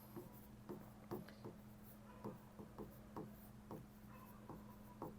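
Pen or marker writing out a trigonometry problem during a maths lesson, a series of soft scratchy strokes and small taps, faint and close, with a steady low hum underneath and no talking.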